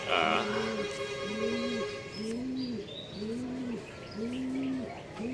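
Racing pigeons coo in a steady repeating rhythm during a derby arrival, each low call rising and falling, with faint chirps and a light rustle in the background.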